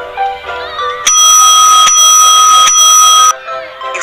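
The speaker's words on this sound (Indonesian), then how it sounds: "Jam menunjukkan waktu istirahat. Bel tanda istirahat pun berbunyi." A school bell signals break time with a loud, sustained electronic ringing tone lasting a couple of seconds, set between quieter stretches of background sound.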